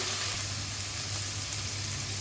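Ginger-garlic paste frying in a pan, giving a steady, even sizzle that stays moderately loud and close and runs without a break, with no voices over it.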